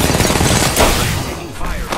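Gunfire in the video game Apex Legends, a dense rattling burst of shots that stays fairly loud and then trails off, with a voice talking over it.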